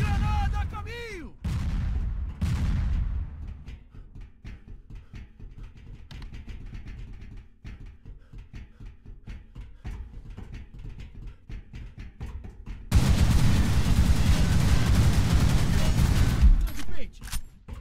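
Gunfire and explosions from the Line of Sight video game: scattered sharp shots and booms early, a sparse crackle of fire through the middle, then a loud sustained burst of blasting near the end.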